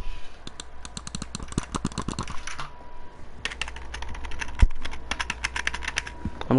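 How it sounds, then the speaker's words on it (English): Rapid clicking keystrokes on a new computer keyboard, played alongside a mouse in Fortnite, in dense bursts with a short pause midway and a louder spacebar thump, close and clear. "I don't really like the way this spacebar sounds"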